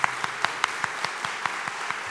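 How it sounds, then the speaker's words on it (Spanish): Rhythmic clapping for teachers at an early-education event, sharp evenly spaced claps about five per second over a soft bed of scattered applause, moderately loud and close. "hay que aplaudirlas a ellas"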